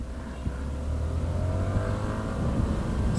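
A Yamaha MT-09 motorcycle engine revs and pulls away on a road during a ride, a steady rising drone heard from a moderate distance over wind and road noise.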